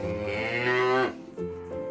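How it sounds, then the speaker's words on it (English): A cow moos loudly and close, one long drawn-out low call that rises and then breaks off, followed by a shorter second moo. "if it looked like a cow, mooed like a cow and walked like a cow, it was a cow"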